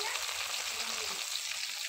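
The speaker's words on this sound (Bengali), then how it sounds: "মাছ আমার ভাজা হয়ে গেছে" Salted fish fries in a pan for a sitouri fish curry with a continuous soft sizzle and crackle that stays steady and fairly quiet the whole time.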